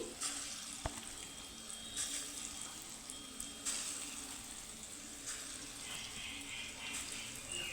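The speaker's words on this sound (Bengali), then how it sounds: "তো এখানে এইভাবে আমি বড়ার আকারে দিয়ে আমি ভেজে নিচ্ছি" Pointed gourd fritters frying in hot oil, giving a faint, steady hiss of sizzling that runs on its own with no talk.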